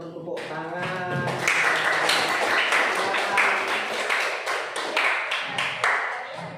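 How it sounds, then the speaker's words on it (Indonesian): An audience at an Indonesian learning-practice session claps, with distinct sharp hand claps forming an uneven, fairly close patter after a brief quieter opening, and some voices mixed in. "Oke, beri tepuk tangan."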